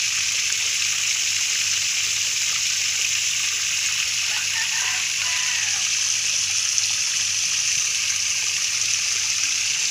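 Water pump churning water in a tarp tilapia pond, a steady, dense rushing and splashing gush that stays constant and close throughout, with a low hum underneath.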